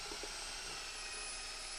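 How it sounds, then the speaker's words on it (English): A power drill spins a paddle mixer at moderate speed, stirring silver metallic pigment into epoxy for a floor installation; a steady, continuous whirring hum runs throughout, fairly even in level and close by. "we're just going to mix this silver metallic pigment in here with a drill and a paddle at a moderate speed"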